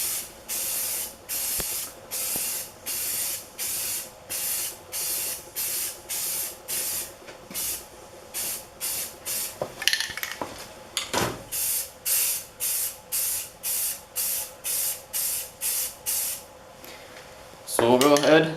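Spray primer applied in rapid short bursts over Bondo patches on a Honda CB500 motorcycle tank, a close, rhythmic hissing series of about two dozen puffs with a brief clatter between.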